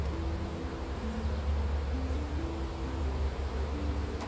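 Honeybees buzzing around a hive during a split, a dense, continuous drone of many wings with a few individual bees whining past up close.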